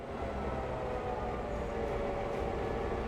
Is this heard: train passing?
yes